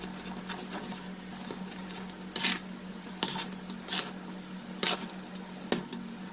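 Aam panna mixture of mango, mint paste and sugar boiling in a pot, with a low steady bubbling bed broken by several sharp clinks and scrapes of a utensil against the pan.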